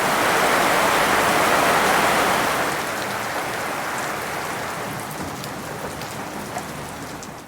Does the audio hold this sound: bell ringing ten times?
no